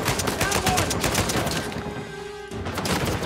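Rapid machine gun bursts rattle through a firefight in the Uncharted 4 video game, loud and dense, pausing briefly midway before the fire resumes, while someone talks over it.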